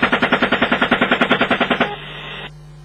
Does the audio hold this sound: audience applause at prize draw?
no